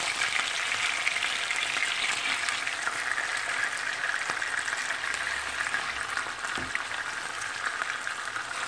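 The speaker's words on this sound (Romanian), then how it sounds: "voi rumeni puțin bucățile de carne în unt" Skinless chicken pieces browning in melted butter, giving a steady, even sizzle and crackle that holds through the whole stretch, fairly loud and close with no talking.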